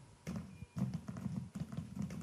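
Horse hooves thud in uneven, repeated clip-clop bursts while riding in the PC game Ertugrul Gazi, fairly faint and close, with short pauses between groups of steps.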